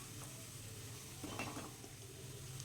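Onion, ginger and garlic sautéing on a low flame, a faint, soft sizzle under light stirring and scraping in a pan, quiet and close, with a brief burst of spoon movement midway.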